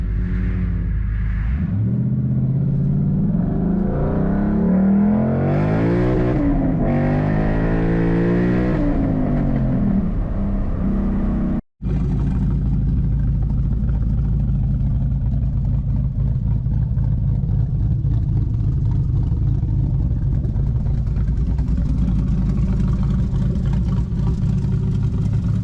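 A 2012 Ford Mustang Boss 302 with resonator delete, sidepipe exhaust and SLP Loudmouth axleback revs loudly and close by, with rising and falling engine pitch, a brief cut, then a steady deep rumble.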